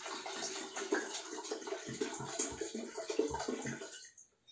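Water poured into a kettle to boil for basil tea, a continuous splashing, gurgling stream that stops abruptly at the end, close by with no talking.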